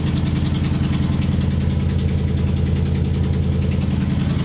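A Ford F150 pickup truck, being rebuilt after frame damage and fitted with an exhaust system, idles steadily close by just after starting, with a deep, even rumble and no voices.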